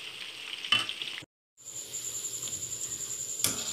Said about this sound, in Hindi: चिकन को हमने 8 से 10 मिनट तक फ्राई करना है।